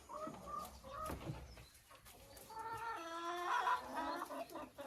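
A laying hen heading to her nest gives a run of soft, repeated clucks and drawn-out tonal calls, close by and fairly quiet, the clucking building toward the end.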